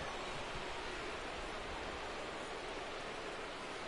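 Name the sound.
rain falling on baseball field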